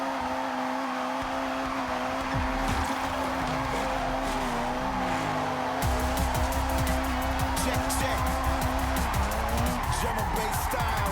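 Engine drone and tire noise from a '95 Mitsubishi Eclipse under an e-brake drift slide in Forza Horizon 6, a steady loud hum with scraping skid texture that roughens midway through.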